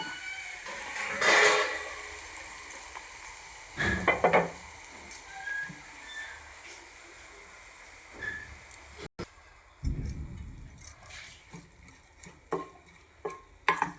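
Very hot oil poured over a chili mixture for homemade chili oil, setting off bursts of crackling sizzle with stirring and clinking of utensils, close and moderately loud, coming in separate waves.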